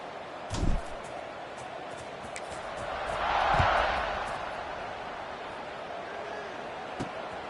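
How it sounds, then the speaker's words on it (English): A stadium crowd in the NCAA 26 college football game swells into a soft, distant cheer mid-clip and fades again, with a couple of dull thuds around it and a voice talking over it. "this crowd is buzzing after that last score"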